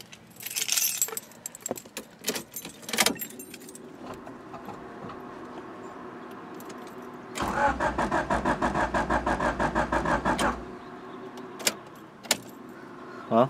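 Keys jangle close up, then a turbocharged Acura Integra engine cranks with a rapid, even starter chatter for about three seconds before cutting off, followed by a few scattered clicks and knocks.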